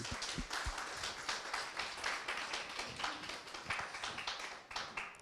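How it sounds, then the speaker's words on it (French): An audience at a Cités Unies de France workshop in Montpellier applauds the team with dense, continuous clapping that holds steady from start to finish, heard from within the room. "Vraiment, merci, on peut les applaudir très fort."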